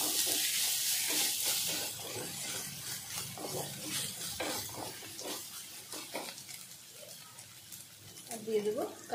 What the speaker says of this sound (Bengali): পেঁয়াজটা নরম হয়ে গেছে, এবার এটার মধ্যে দিয়ে দেবো টমেটো।